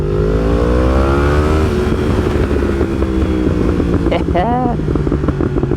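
A Yamaha R1M superbike's engine revs loud and close, its pitch sweeping up and down in repeated throttle blips, then a sharp rising wail near the end.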